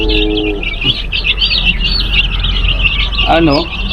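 Young chicks being raised as stag fighting stock chirp in a dense, continuous high-pitched chorus, close and loud, with a brief voice speaking near the start and end.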